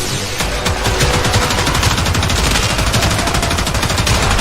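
Rapid automatic gunfire from weapons in the video game Warframe, a dense loud stream of fast repeating shots that runs continuously and up close.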